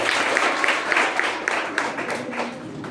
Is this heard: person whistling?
no